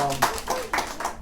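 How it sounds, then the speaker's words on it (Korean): A group of children clap together at a Sunday school service, a short burst of a few uneven, roomy hand claps with faint voices around them. "우리 박수"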